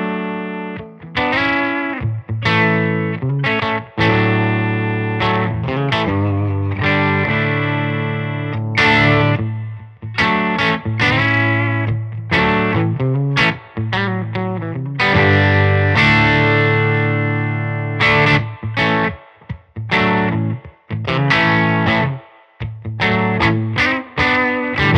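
Electric guitar on its bridge pickup, played through a Benson Amps Monarch Reverb amp, with chords and single notes ringing out loud and close in a mildly driven, clean-ish tone, with no speech.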